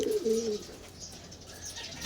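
Breeder pigeons in a loft give a short, close coo at the start, then faint background noise follows.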